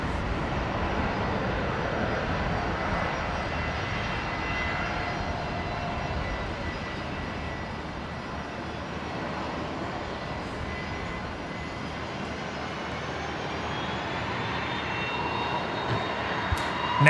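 A QantasLink airliner arriving at Brisbane from Wagga, its engine roar a steady, moderately distant drone that holds evenly throughout with no talk over it.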